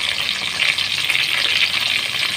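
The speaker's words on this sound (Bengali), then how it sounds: "এইবার হলো তেলের উপরে তেজপাতা আর গরম মশলা দিলাম" Bay leaves and garam masala hitting hot oil that was just used to fry prawns give a loud, steady, close sizzling hiss with no break.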